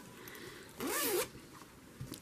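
A zipper on a secondhand fabric bag is pulled in one quick, close, rasping stroke, briefly loud against a quiet room.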